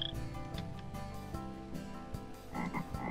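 Frog croaks from the Minecraft video game repeat in a steady, fairly loud sequence over background game music, with low pulsing calls and a few higher chirps toward the end.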